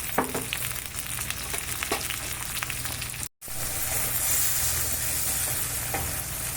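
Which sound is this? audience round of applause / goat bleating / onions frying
onions frying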